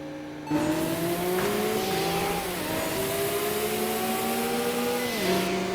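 A Nissan GT-R R35 engine in a racing video game holds a loud, steady drone that rises and dips with gear shifts and throttle changes, running continuously without talk.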